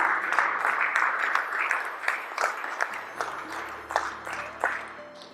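Congregation applause at a Spanish-language church service, steady clapping with sharp individual claps and a sustained tone underneath, moderately close throughout.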